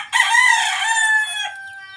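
A wild junglefowl (labuyo) gives a single close, clear vocal call lasting about a second and a half while eating from a hand, alone with no talk.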